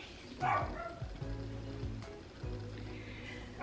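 A dog barks in a few short bursts at close range, with quiet gaps between the yaps.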